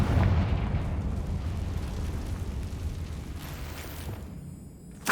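A Confringo spell explosion in the video game Hogwarts Legacy booms heavily, then rolls on as a continuous low roar that slowly fades, with a sharp new burst right at the end.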